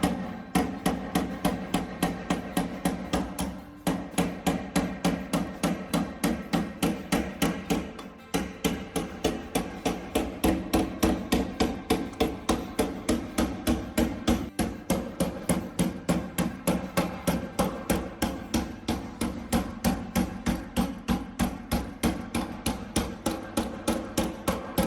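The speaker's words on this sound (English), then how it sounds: "So I'm going to hit on that inside line. You can hear it sounds solid too." A hammer repeatedly strikes the inside line of a steel door patch panel on a '72 Road Runner GTX, giving a fast, steady run of sharp, solid metallic taps with only a few brief pauses and no talking.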